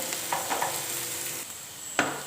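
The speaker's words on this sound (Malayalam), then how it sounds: "ഉള്ളി ഇവിടെ നന്നായിട്ട് വറുത്ത് വന്നിട്ടുണ്ട് ഇപ്പോൾ ഒരു ഗോൾഡൻ കളറായി" Onions frying to golden on a medium flame for a curry, a soft steady sizzle with a few faint stirring clicks and one sharper knock near the end.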